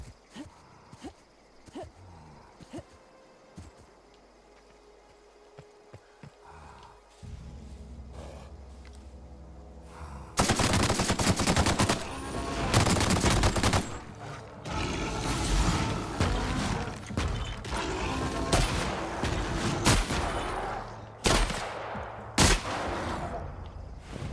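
Gunfire and roaring combat noise in the video game The Outer Worlds, a quieter stretch giving way at about ten seconds to loud, dense bursts of shots and blasts that continue to the end.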